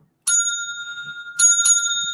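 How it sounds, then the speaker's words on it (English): A bicycle bell rung three times, one crisp ring followed after a pause by two quick rings, each clear bright tone ringing on and fading slowly, close and loud with no talk. "We'll do the traditional bell."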